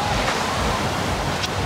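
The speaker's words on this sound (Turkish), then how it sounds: "Deniz bugün bayağı bir dalgalı." Rough sea waves surge in a dense, continuous wash with wind buffeting the microphone, loud and close, no voices over it.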